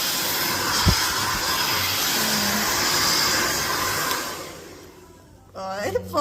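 A hair dryer blows loudly during a haircut in a salon, a steady rushing whoosh for about four seconds before it shuts off and a voice speaks briefly.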